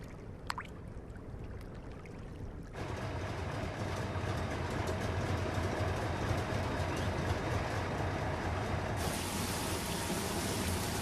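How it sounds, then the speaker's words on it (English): A loaded freight train rumbles steadily past in a salt desert with a broad, dense roar and faint rhythmic clatter, growing louder after a quieter opening. "While the loaded train rolls back into the camps,"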